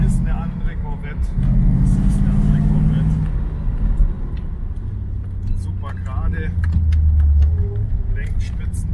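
A 1972 Corvette C3 on a test drive rounds a roundabout, its mid-pitched engine humming steadily from inside the cabin and swelling briefly as it accelerates, with someone talking over it.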